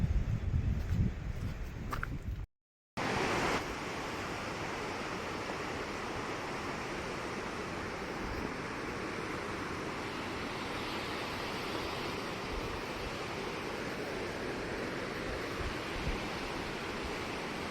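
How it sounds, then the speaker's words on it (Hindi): Fast-flowing river water in the Harsil valley, a dense continuous roar that fills the scene steadily after a brief dropout near the start, loud and close with no voices. "पानी का बहाव भी बहुत तेज है सर आज।"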